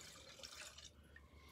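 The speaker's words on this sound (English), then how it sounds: "I'm going to add all the water that I would use." Water is poured into a pour-over kettle sitting on a scale: a quiet, steady splashing flow that tapers off partway through, heard alone with no talking.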